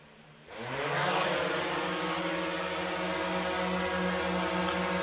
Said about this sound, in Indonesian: Ini sekarang drone-nya sedang terbang.